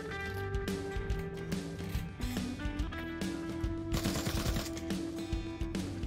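Rifle fire in the virtual reality shooter Pavlov VR, sharp repeated shots in quick bursts and single cracks over a sustained background tone, fairly loud and with no voices.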